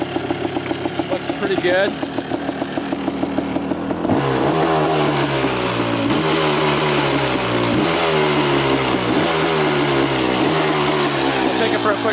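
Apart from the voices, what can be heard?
Suzuki Quadzilla LT500 ATV engine running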